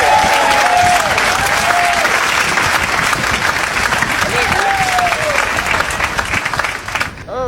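Sustained applause from an audience at a village event, dense and loud throughout, fading slightly near the end with brief voices over it.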